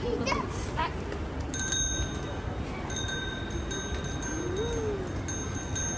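A small bell, apparently a bicycle bell, rings in several short bright bursts over background noise and nearby chatter, with the ringing settling into a sustained tone.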